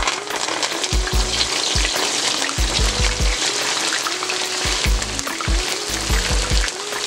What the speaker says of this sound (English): Next thing, we're simply just going to deep fry it.